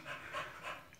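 Newborn American Bully puppies pant softly in three quick breathy bursts, faint and close, with no voices.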